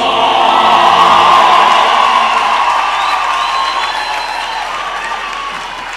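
Loud, dense applause from a large graduation ceremony audience, with scattered cheers and whoops, steady at first and then slowly tapering off.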